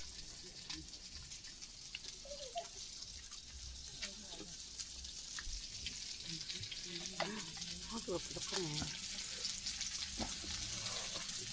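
Pork belly sizzles and crackles steadily as it fries at a Danish campsite, a continuous bright hiss with occasional pops and stirring clinks, moderately close, with brief voices in the background.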